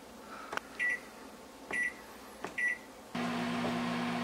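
A microwave oven in a home kitchen gives three short beeps as buttons set the cook time, then its fan and turntable hum start steadily, close and moderately quiet with no talk.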